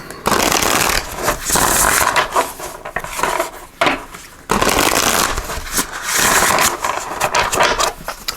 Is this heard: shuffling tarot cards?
yes